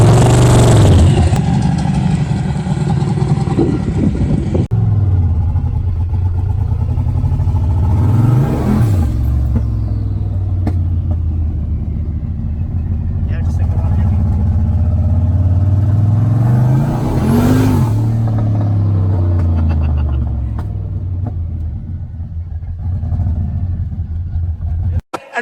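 A turbocharged Fox Body Mustang on the move, its engine droning loud and close inside the car and climbing in two rising revs with shifts between, then easing off toward the end.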